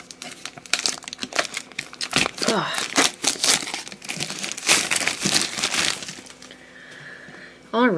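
Plastic wrap crinkled and torn off a Pokémon Kyurem EX collector tin, heard as close, irregular crackling and rustling bursts with a few squeaky stretches, loud and busy throughout, ending in quieter handling.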